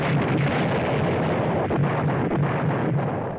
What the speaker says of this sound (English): Day and night the bombs continue